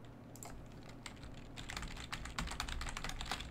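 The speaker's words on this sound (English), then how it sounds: "just typing out Misfortune here" Fingers type on a computer keyboard during a League of Legends session, a quick run of crisp key clicks that starts sparse and grows denser and steadier, close and fairly quiet, with no talking.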